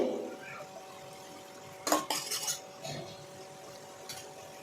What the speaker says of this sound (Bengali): নাড়িয়ে নাড়িয়ে দেখো মশলাটা কষানো হচ্ছে